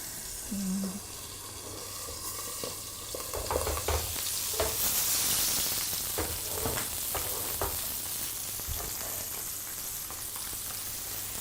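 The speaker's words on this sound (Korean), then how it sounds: "지글지글 소리가 군침을 돌게 만들어요." Small yellow croaker fish sizzling as it cooks in a pan, a steady close frying crackle with scattered pops throughout, no talking.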